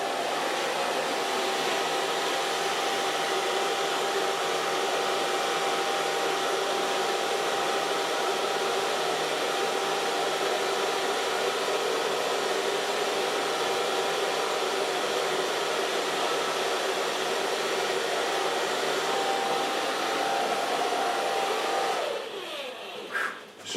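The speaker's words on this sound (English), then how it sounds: "So if I'm blow drying," A hair dryer blows steadily and loudly on long curly hair for over twenty seconds, its broad whooshing roar holding even before cutting off near the end.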